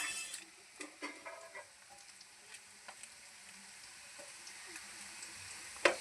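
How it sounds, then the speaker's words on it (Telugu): Onions and green chillies fry in hot oil in a pan as a tempering, giving a soft steady sizzle with a few light stirring clicks, quiet and close, with no talking. "ఇవి మంచిగా ఏగేదాకా వేయించుకోవాలి. ఉల్లిగడ్డ, పచ్చిమిర్చి."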